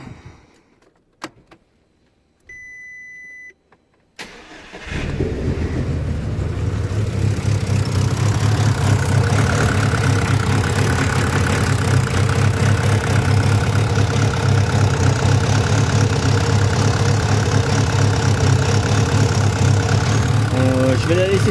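A car engine is started after work on its fuel circuit: a brief crank, then a steady, loud idle that runs on evenly, with faint clicks before the start.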